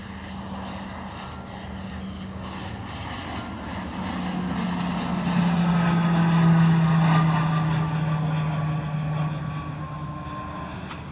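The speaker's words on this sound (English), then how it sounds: "Our M600 is on the move." A Piper M600 single-engine turboprop taking off from misty London Luton Airport: a steady propeller drone with a strong low tone that swells mid-clip as it passes, then holds on at a distance, with no talk.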